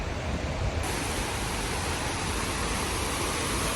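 Waterfalls rush inside an indoor theme park at Ferrari World, a loud, even broadband roar that holds steady from start to finish with no one speaking.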